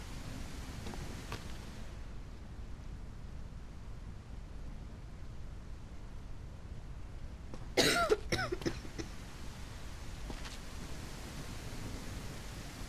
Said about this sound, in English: you got that cough again